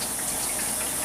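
Tap water runs steadily over something being rinsed while baking pies, a dense and fairly loud rushing splash that holds even for about a second, close by and with no voices.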